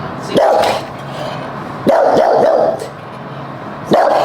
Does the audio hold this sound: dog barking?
yes